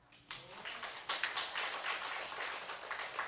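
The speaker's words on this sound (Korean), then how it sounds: "하나님께 영광의 박수 올리겠습니다." Church congregation clapping during a Sunday worship service, a scattered patter of hand claps building into steady applause, moderately faint in a reverberant hall, with no talking over it.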